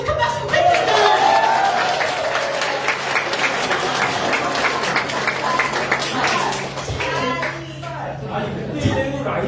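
Applause from an audience at a Democratic Party members' meeting in a party meeting room in Jeju, steady dense clapping sustained throughout with some voices mixed in.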